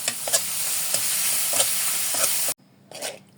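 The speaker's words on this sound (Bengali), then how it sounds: "মাংসটাকে ভেজে নিচ্ছি।" Beef pieces fry in a pan with chilli, coriander and turmeric powder, giving a loud, close sizzle with stirring scrapes, then a sudden cut to quieter sizzling.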